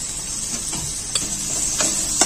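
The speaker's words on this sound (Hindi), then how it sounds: "तो अदरक लहसुन के पेस्ट के हम भून लेते हैं 2 मिनट भून लिए हैं" Ginger garlic paste sautéing with onion and tomato for samosa chaat hisses steadily in the pan, with a few sharp spatula scrapes and clicks standing out over the sizzle.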